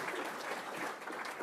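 Audience applause at a materials design challenge event, a steady wash of many hands clapping at moderate distance, fairly quiet and even throughout with no voices on top.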